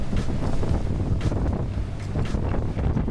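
Strong wind buffets an unprotected camera microphone outdoors on a windy day, making a loud, continuous low rumble that fills the whole stretch.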